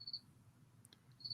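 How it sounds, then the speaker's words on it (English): Pet cricket named Herbert chirps in two short high-pitched trills, one at the start and one at the end, faint over a low indoor hum. "Why do I hear crickets?"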